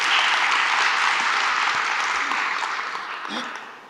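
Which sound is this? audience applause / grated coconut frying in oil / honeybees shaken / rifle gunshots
audience applause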